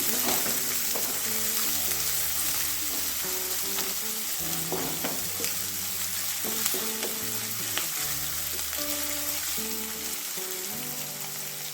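Finely chopped onions frying in oil with bay leaf, cardamom and cloves for a restaurant-style veg kadai, a steady close sizzle with bursts of crackle and stirring clatter, plus music in the background and no talking.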